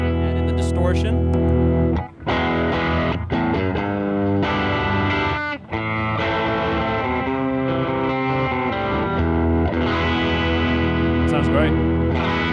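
Electric guitar driven through the distortion side of a Fender Compugilist pedal, medium-gain rock tone with chugging chords and sustained notes, loud and continuous with two brief breaks.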